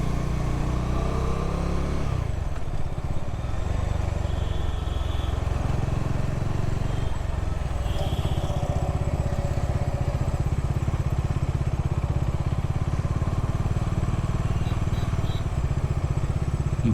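A motorcycle rides through city traffic in Navi Mumbai with a constant close engine drone and wind rumble, nearby vehicles passing and faint horn beeps, no talk.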